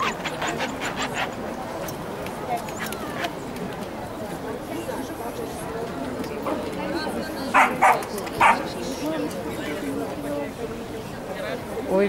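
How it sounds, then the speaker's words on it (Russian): Several puppies keep up continuous yipping and barking with some whimpering, and a few louder barks stand out near the middle, while people talk over the litter the whole time. "Это щенки, где-то вместе с Пашей сушат."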